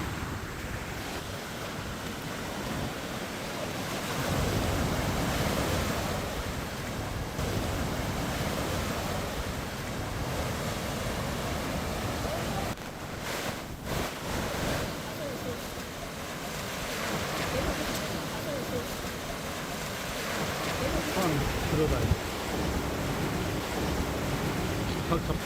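Sea waves wash in continuously off the coast in front of the Fukushima nuclear plant, a steady broadband surf roar mixed with wind buffeting the microphone, with a few louder gusts and swells and no clear talk.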